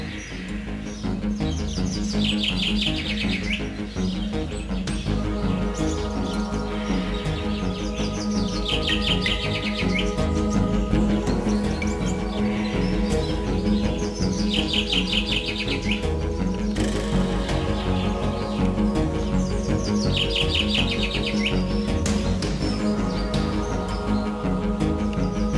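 Several birds chirp and sing steadily over a continuous bed of layered calls, with repeated bright trilling bursts standing out, as pet birds with orange crests are kept by a farming couple.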